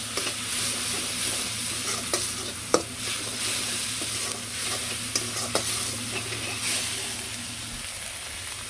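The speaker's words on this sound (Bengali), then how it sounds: "মরিচের ফাঁকি, হলুদের ফাঁকি, সামান্য একটু জল দিয়ে ভালো করে কষিয়ে নিই" Kashmiri chili powder, chili and turmeric masala sautéing with a little water in a pan, a continuous hissing sizzle with intermittent scrapes and taps of a spoon stirring, steady and close.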